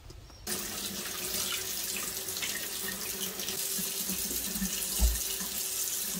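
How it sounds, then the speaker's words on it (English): Tap water pours steadily into a sink while lemons are rinsed for a habanero chilli cherry tomato sauce, a loud continuous splashing rush with no talk. "Give all these a good wash."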